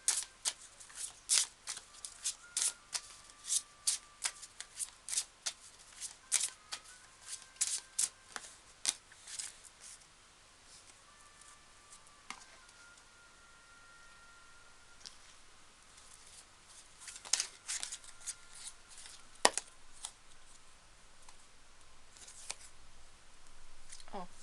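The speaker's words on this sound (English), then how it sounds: "And I will pull some more cards." Tarot cards being shuffled by hand up close, with a series of quick riffling and slapping bursts that thin into sparser taps and rustles toward the end.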